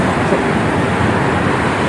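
A bus speeds past on the Cipali toll road, a loud steady roar of engine and road noise close by throughout.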